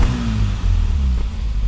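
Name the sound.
Mini 1.3 MPI engine revving with a raspy exhaust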